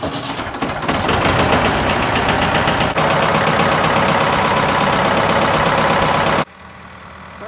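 A farm engine cranks and catches near the microphone, then settles into a loud, steady knocking idle that runs for several seconds before cutting off abruptly.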